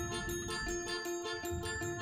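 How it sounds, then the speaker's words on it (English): Bright, ringing bells chime in a steady repeating pattern within the video game Wandersong, loud and continuous over a layered musical backdrop, with no talking. "I gotta turn the volume down a little bit, because, like, yo, these bells are getting"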